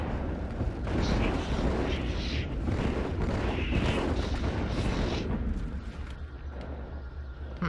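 Gunfire and explosions from the Halo 2 video game form a dense, continuous rumble of booming shots and blasts that eases slightly toward the end.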